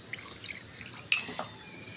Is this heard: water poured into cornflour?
yes